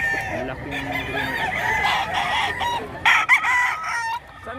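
Several Pampanga gamecocks crow and cluck close by in a crowded market, overlapping calls rising and falling over a constant background murmur of people.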